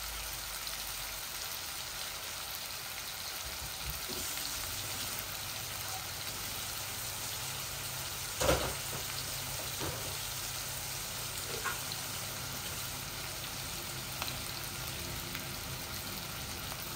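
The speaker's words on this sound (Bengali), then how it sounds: "আমার আলুগুলা ভাজা ভাজা হচ্ছে, আরো একটু ভাজি ভেজে নেই" Potatoes frying in a pan for a fish and tomato curry make a faint, steady sizzle, broken by a few sharp clinks and scrapes near the middle.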